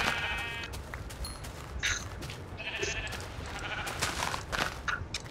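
Minecraft sheep bleat in short repeated cries over a steady game background hum, with faint game sound effects between them.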